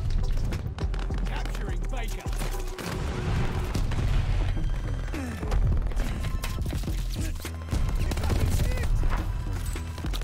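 Gunfire from a Tommy Gun M1928 in the Call of Duty: Vanguard video game: loud, dense bursts of rapid automatic shots with booming impacts, nearly continuous across the clip with only brief pauses.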